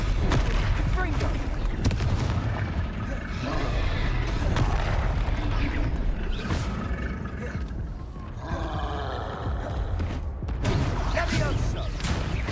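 Repeated Confringo blasting spell explosions and booming roars in Hogwarts Legacy during a dragon fight, dense and continuous with heavy rumbling impacts throughout, and a voice talking over the game.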